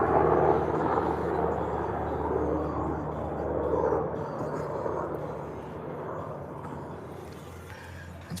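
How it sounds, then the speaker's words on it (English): A helicopter flies overhead near a disco, a steady low rotor drone with a throbbing pulse that stays loud and continuous, easing slightly toward the end. "Ooh, helicopter, a helicopter."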